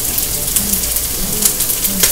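Chicken fried rice frying in a pan gives a steady close sizzle with faint crackles and a few light stirring taps, alone without voices.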